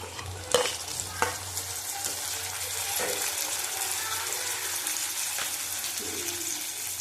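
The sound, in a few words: two tomatoes added and stirred in frying pan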